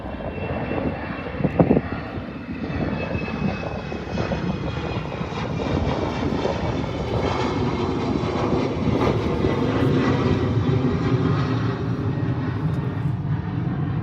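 A Cobham Embraer E190 jet at Perth Airport roars steadily with a broad engine rush that swells slightly louder and holds, heard from nearby with no talking.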